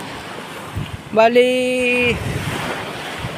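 Sea waves and wind wash steadily along a beach in Iba, Zambales, a soft, continuous surf hiss with gusty wind noise, briefly broken by a short voiced sound.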